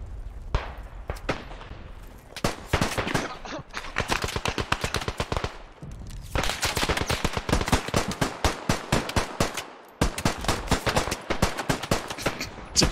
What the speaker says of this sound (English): Just shooting the trees.